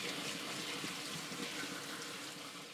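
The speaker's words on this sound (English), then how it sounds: "we could get away with just rinsing them off with cold water here" Cold tap water pours steadily over strawberries being rinsed, a continuous close splashing hiss with no pauses.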